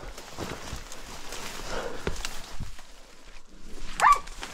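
Hunting dogs out near a creek on a pig hunt, scattered distant barks and yips amid rustling movement outdoors, faint and irregular, with one sharper yelp near the end.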